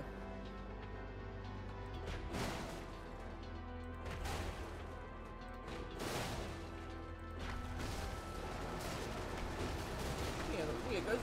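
Heavy railgun rounds in the video game Brigador punch through row after row of houses, a dense run of booming impacts and crashing debris over a constant low rumble, with people talking throughout.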